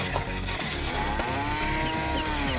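A long, drawn-out moo from a mother cow with a sliding tone rises over a dense, noisy background of clatter and rumble as she is loaded onto a trailer truck.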